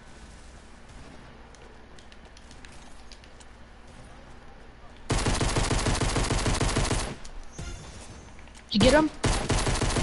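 Rapid automatic SCAR rifle fire in a video game, loud close bursts after a quiet stretch, a brief pause, then more firing, with a voice speaking over the action.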